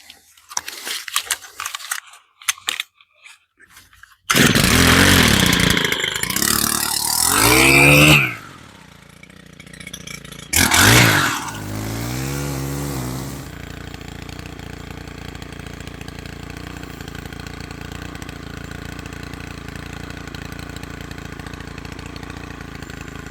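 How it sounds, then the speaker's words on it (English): A gas string trimmer cutting weeds along a garden walkway revs loudly in bursts, dips between them, then settles into a steady idle for a long stretch. "I'm using a gas string trimmer, you're going to need earplugs."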